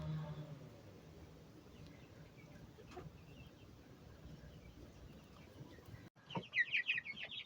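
Chicks eating cat soup give a quiet, scratchy pecking background, followed near the end by a burst of close, high-pitched peeping chirps, while a person speaks softly nearby.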